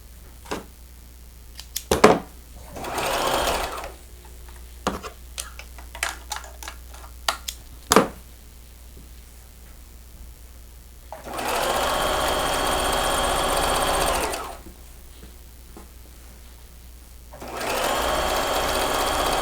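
A sewing machine stitches a dress made from two men's shirts, running in two sustained whirring bursts after a stretch of scattered clicks and handling knocks, close and without talk.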